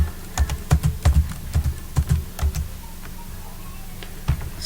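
Someone types on a computer keyboard while entering data in Excel: bursts of quick, close keystrokes, some clustered and some spaced out, with brief pauses between groups.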